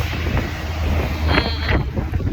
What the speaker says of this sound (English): I don't know if you can hear this freaking wind